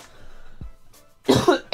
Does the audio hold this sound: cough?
yes